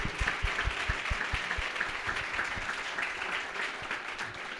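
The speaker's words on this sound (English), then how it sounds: "Let's give a round of applause to our wonderful panelists." Applause for the panelists at a career networking event: a crowd of hands claps steadily, strongest at the start, then gradually thins and softens toward the end.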